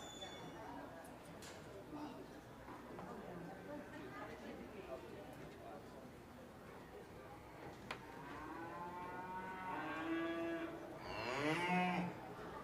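Junior heifer calves moo repeatedly at a county fair open beef show ring, several loud, drawn-out calls near the end over steady crowd chatter and an announcer's voice.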